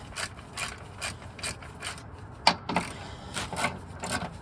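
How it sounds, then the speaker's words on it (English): A ratchet tightens the lower engine torque rod mount bolts on a Honda Civic, giving repeated quick pawl clicks in short bursts, close and moderately loud, with no talking. "Get your ratchet and just gently torque down the bolts, okay?"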